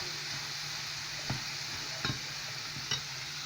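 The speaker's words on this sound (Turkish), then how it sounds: "Sırasıyla diğerlerini de kızartacağım." Steady oily sizzle of eggplant and other vegetables frying, with a few soft clinks of a utensil against the pan, close and continuous.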